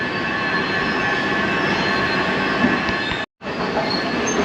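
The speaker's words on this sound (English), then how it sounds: "And we're going to catch the train" Train pulling into a station in Inca, Mallorca, with a steady loud rumble of wheels on rails and faint squealing, close by and continuous apart from a brief dropout.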